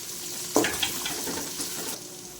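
Onions sizzle and fry in a pan for Hyderabadi bagara rice, a soft steady hiss with a few brief spatters and stirring scrapes.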